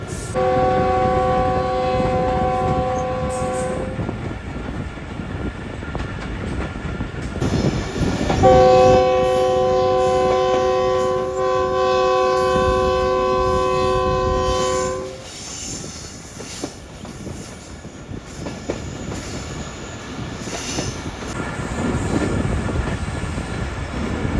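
The Khushal Khan Khattak Express overnight passenger train rolls into Sehwan. It sounds two long, loud horn blasts over a constant rumble and clatter of wheels.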